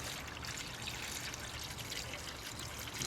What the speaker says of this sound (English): once we get coolant running out of there